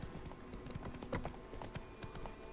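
Horse hooves clip-clop at a steady run in the video game The Witcher 3: Wild Hunt, a quick rhythmic series of muffled thuds played fairly quietly in the forest near a village.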